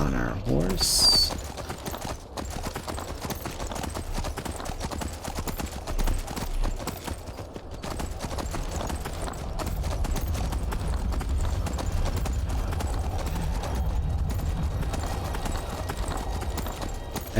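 Steady clip-clop of horse hooves in the video game Skyrim trots along in a rhythmic pattern over a low background hum, with a brief chime near the start.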